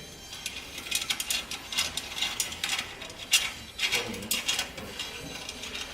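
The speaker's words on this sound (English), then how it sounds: "Let's take the bolts out completely." A ratchet wrench clicks rapidly in repeated bursts while taking out the exhaust clamp bolts on a Harley Davidson Softail, close and crisp with a brief pause near the middle.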